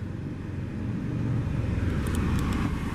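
A 2018 Volvo V90 T5 FWD R-Design idles with a steady low engine rumble, continuous and fairly loud for the full stretch, with no talking over it.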